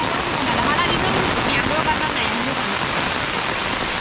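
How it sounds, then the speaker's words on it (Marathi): Heavy rain pouring down outdoors, a dense, loud, steady hiss with no breaks, with voices faintly mixed in. "छत्री आणता पाऊस जोरात इलो हा"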